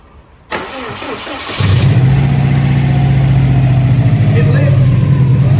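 A freshly rebuilt Subaru WRX engine cranks briefly, then catches and settles into a loud, steady low idle, heard close with a person speaking before it fires.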